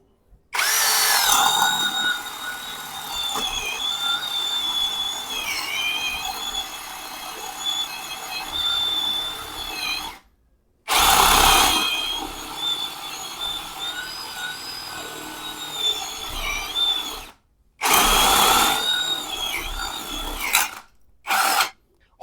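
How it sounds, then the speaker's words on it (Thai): An OSUKA OCHD802 three-mode drill in second gear bores through wood with a 25 mm spade bit, whining loudly and steadily in three long runs separated by brief silences, then a short final burst, with no talking. "เดี๋ยวมาลองเจาะไม้ใบพายกันดูนะครับ"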